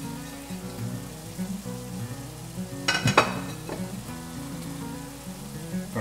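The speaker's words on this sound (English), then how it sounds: "Now, we add our toasted spices." Toasted spices dropped into a pot of red chili posole sizzle and crackle softly, with a brief louder burst of frying and stirring near the middle against a low steady background.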